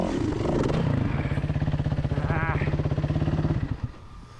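A hard enduro motorcycle engine labors close by in a loud, rapid throbbing chug as it climbs over a rock, with a brief higher rev partway through before the throttle eases off and the sound drops.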